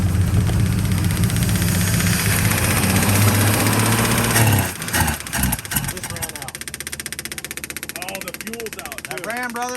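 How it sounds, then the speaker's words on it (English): A 1951 Studebaker engine runs on fuel from its own tank through the pump and carburetor, a loud steady rumble that roughens and stumbles partway through, with people talking over it. "Hey, that's running on its own gas right now, too."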